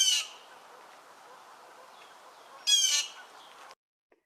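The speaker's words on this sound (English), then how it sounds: "This is a blue jay" A blue jay gives two harsh, raspy squawking calls, one at the start and another about two and a half seconds later, with faint background hiss between and no voices.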